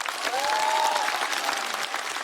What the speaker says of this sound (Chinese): 我们掌声再给小佳